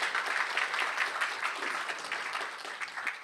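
Audience at a Korean speaking contest for international students applauds to welcome a professor, a steady wash of moderate clapping from a sizable crowd lasting a few seconds.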